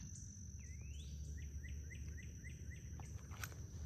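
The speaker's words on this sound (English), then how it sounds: "Love listening to all the bird sounds out here." Birds sing by a Missouri creek, with a rising whistle followed by a rapid run of repeated chirps, set against a steady insect drone and low rumbling outdoor background.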